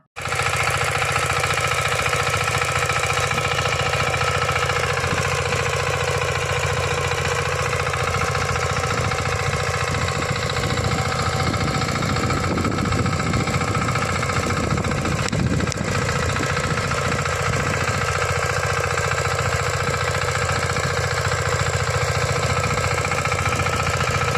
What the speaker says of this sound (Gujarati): આજે ટ્રેક્ટર હાંકી નાખીએ